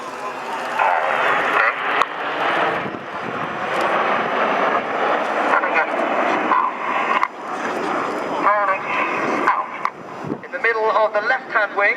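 Red Arrows BAE Hawk jets accelerating in the Signet formation at a Yeovilton air display, a broad, sustained jet roar mixed with wind noise, with a commentator talking over it.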